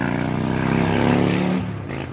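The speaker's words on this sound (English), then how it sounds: "this motorcycle going by" A loud motorcycle engine drones steadily close by, its pitch shifting slightly as it passes, a rough motorized roar filling the whole moment.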